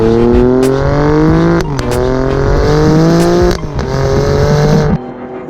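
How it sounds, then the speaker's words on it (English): Alfa Romeo Stelvio Quadrifoglio 510 hp SUV exhaust heard from inside the cabin: a loud, continuous engine roar climbing through the revs, with brief dips at gear changes, then a sudden drop to idle at the end. "Ooh, that exhaust noise sounds such a treat, and it sounds so good coming inside of the cabin"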